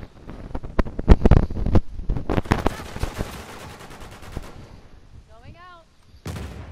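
Gunfire in an online shooter video game match: dense, loud bursts of rapid automatic fire and sharp shots that crowd the first seconds, then thin out, with a short whistling tonal sweep near the end.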